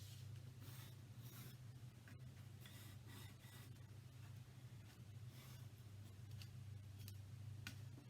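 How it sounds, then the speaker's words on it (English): A pencil tracing a diamond shape along the folds of a sheet of paper gives soft repeated scratchy strokes, close and quiet over a low steady hum, with no voices. "My diamond I'm going to trace on each of the folds"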